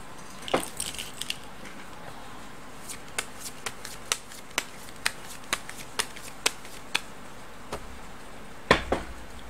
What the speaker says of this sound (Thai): เดี๋ยวจะมาเสี่ยงไพ่ยิปซีให้เพิ่มเติม